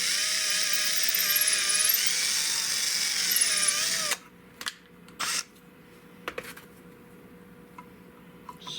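A drill whines steadily and loudly through the first four seconds, enlarging a hole in an old .410 garden gun during restoration, then cuts off, leaving a few short mechanical clicks and bursts.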